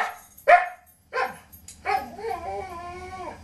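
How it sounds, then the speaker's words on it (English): A boxer dog nearby gives two sharp barks, then breaks into a long, drawn-out whining howl. The sounds are loud and clear, with no talking over them. "Oh, one of my dogs is acting up. That's the boxer."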